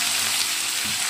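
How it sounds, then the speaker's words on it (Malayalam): Sliced onion sautés in hot oil with popped mustard seeds and dried red chilli, a dense, even sizzle close up with a faint stir near the end. "ഇനി നമുക്ക് സവാള ചേർത്ത് കൊടുക്കാം. സവാള നന്നായി ഒന്ന് വഴച്ചെടുക്കാം."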